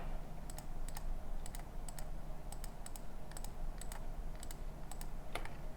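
A computer mouse clicks through parts one after another in laser-cutting software, the quiet, crisp clicks coming in quick pairs at a fairly regular pace against faint background hiss.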